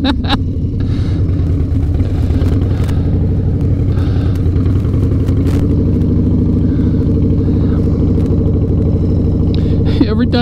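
Harley-Davidson motorcycle engine and exhaust rumbling steadily in a low, loping throb while riding, heard alongside talking voices throughout.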